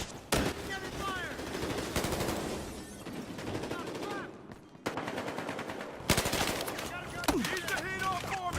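Sustained gunfire in the video game Battlefield Hardline, with dense rapid bursts and scattered single shots from a heavy vehicle-mounted gun and other weapons, loud and near, with voices shouting over the fighting.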